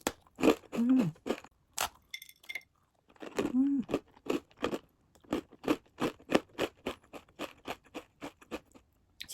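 A crunchy vegan corn dessert is bitten and chewed up close, with crisp crunches at first, two short voiced murmurs, then a long run of evenly spaced crackly chews.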